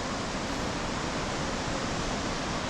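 Steady, dense roar of a big waterfall on the West Fork Foss River in snowy alpine wilderness, a continuous broadband rush of falling water heard from a distance, with no voices.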